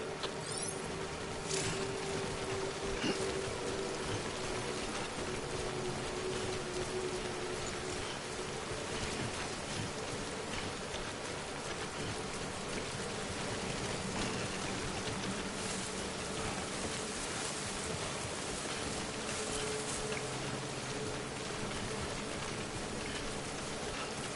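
Steady rain from the video game Death Stranding, a continuous even wash of falling drops with a faint low ambient bed beneath, no voices.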